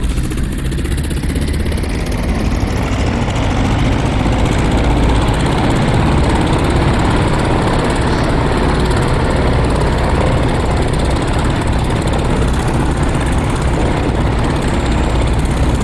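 A Polikarpov I-16 fighter's radial engine warms up at around 1100 RPM with brakes held, in the DCS flight simulator, a loud, steady propeller drone running unbroken throughout.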